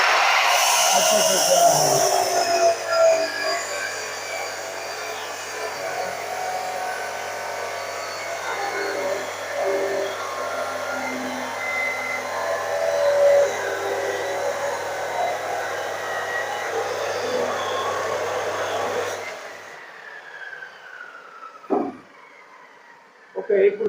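Abrasive cutting machine slicing through a solidified metal piece in a ferrous foundry workshop, a steady loud whining grind with shifting tones held for about twenty seconds before it stops, followed by quieter workshop clatter.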